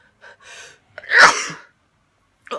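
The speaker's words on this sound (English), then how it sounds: "Oh, sneeze." A single person sneezes indoors on a narrowboat, preceded by a couple of short sharp intakes of breath, then one loud, close burst trailing off into quiet.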